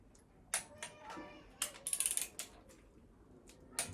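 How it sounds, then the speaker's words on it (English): A torque wrench set to 15 foot-pounds tightens bolts in a crisscross pattern on a CB Performance 2017cc long block, giving sharp ratcheting clicks in short bursts, one quick cluster in the middle, close and fairly quiet. "I've got torque wrench set to 15 foot-pounds, so I'll follow the other pattern"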